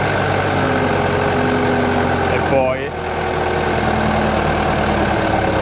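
A farm tractor's engine rises in revs as it accelerates while hauling an irrigation hose reel in a maize field, a steady continuous drone with a brief swell midway, and a person speaking over it.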